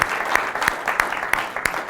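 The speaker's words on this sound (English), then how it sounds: "a round of applause for you" A room of listeners claps for a CEO's lecture, with distinct individual claps standing out over a steady patter.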